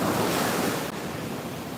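Ocean surf breaks and washes continuously along Fort Lauderdale beach at sunrise, a loud, dense roar with wind buffeting the microphone.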